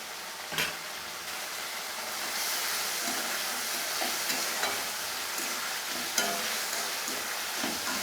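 A spoon of ginger-garlic paste fried and stirred in a pan for a chicken liver and gizzard curry: steady loud sizzling broken by occasional scraping strokes of the stirring utensil, close and continuous with no talk.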